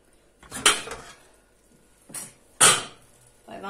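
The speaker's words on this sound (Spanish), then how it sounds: "Pues vamos a abrir la olla" A lid lifted off a cooking pot of oven-roasted pork knuckle, Cordoba style: a few sharp metallic clanks and scrapes of pot and lid, close and separated by short pauses, with faint background sounds.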